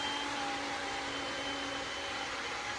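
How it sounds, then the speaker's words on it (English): Steady, faint hum of a vacuum cleaner running in another part of the room, an unbroken whirring motor drone with no voices. "At some point that vacuum cleaner will go off"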